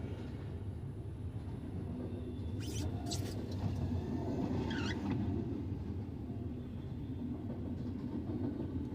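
A graffiti-covered freight train rolls past at close range, a steady loud rumble of wheels and cars with a few sharp squeals and clanks over it, no talk.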